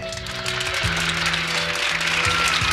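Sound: audience applause for the bass player at a concert

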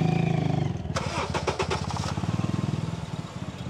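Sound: used car engine being started

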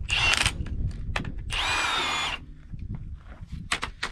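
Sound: power tool backing off bolts on an oil well

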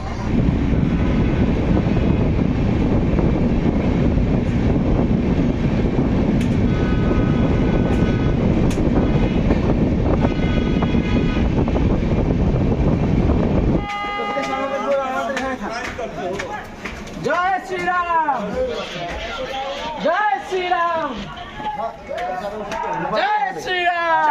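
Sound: train arriving at Mankapur railway station

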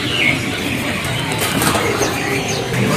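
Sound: caged birds in a bird shop

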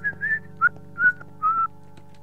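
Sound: person whistling

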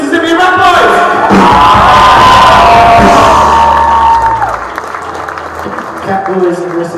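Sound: concert crowd applause and cheering

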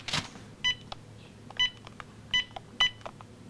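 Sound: telephone dialing tones, calling a hotline

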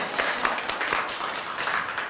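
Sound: church congregation applauding

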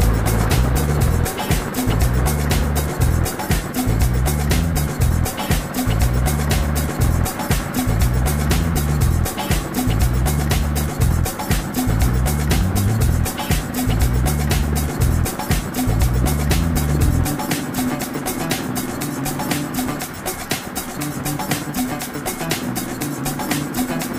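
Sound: Suzuki Boulevard M109R motorcycle riding on the road

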